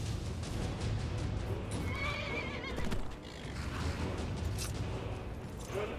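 A horse whinnies clearly in the video game Skyrim, its neigh rising over clip-clopping hooves and creaking tack in an ongoing outdoor game scene.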